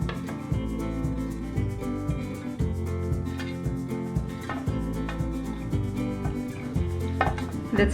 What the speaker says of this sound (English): Let's scrape the outer part of the petai.